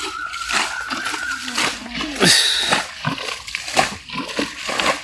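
Fish leap and thrash in a bucket of water, sending out repeated close splashes and sloshes while people talk over them.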